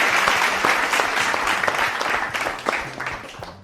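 A studio audience at a televised cooking competition breaks into sustained applause, a dense, even wash of many hands clapping that carries steadily and tapers slightly toward the end.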